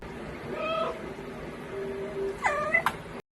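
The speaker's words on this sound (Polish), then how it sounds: "Na szczęście jest też osobny guzik do miauczenia." Cat meowing in the video game Stray: two clear, close meows, the second louder and rising, over quiet background hum.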